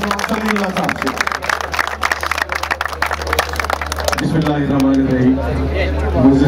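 An audience at a prize distribution ceremony for the Naya Nazimabad football tournament claps in dense, steady applause for a few seconds under an announcer's amplified voice, then the clapping fades while the speaking continues.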